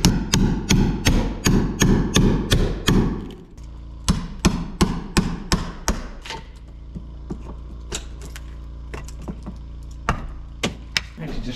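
A new 2-inch chisel is struck into pine during a log cabin build, a rapid series of sharp, close hammer blows, then a pause and scattered single knocks over a low steady hum.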